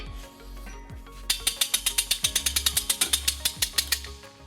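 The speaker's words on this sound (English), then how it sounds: "We'll be using our U-Haul exclusive hitch jack." A hitch jack ratchets a heavy trailer hitch up into place under a 2011 Toyota RAV4, about twenty close, evenly spaced sharp clicks in a rapid run after a low mechanical hum.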